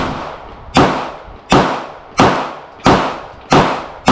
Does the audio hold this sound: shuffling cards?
no